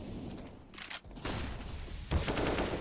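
Rifle fire in a competitive Counter-Strike match, shots fired through smoke: a few sharp bursts of gunshots, one around the middle and a louder cluster near the end, over quiet game ambience.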